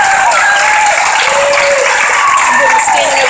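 A crowd applauds in a standing ovation at a high school band performance, with dense, steady clapping throughout and no pauses.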